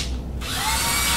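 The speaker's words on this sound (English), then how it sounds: "I'm gonna use the 7/16 inch drill bit." A power drill fitted with a 7/16 inch bit is quiet at first, then whirs up sharply and keeps spinning at a steady, close, fairly loud pitch, with no talking.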